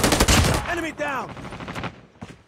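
Gunfire from the Call of Duty Mobile video game comes as a burst of rapid shots at the start. A game voice calls out over the fading shots.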